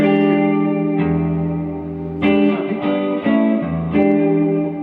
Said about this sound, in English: Does anyone know the Hendrix chord? The Jimi Hendrix chord? It sounds like this.